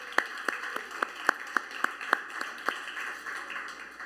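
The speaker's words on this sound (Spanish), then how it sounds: "Un aplauso para ustedes." A small audience applauds at a church service, a sparse run of about a dozen separate, fairly distant claps that thin out over a few seconds, with no voices.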